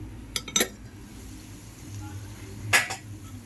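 A metal lid clinks as it is lifted off a pan of plantain frying on the stove, with a couple of sharp clatters early and another louder clink near the end over a faint background hum.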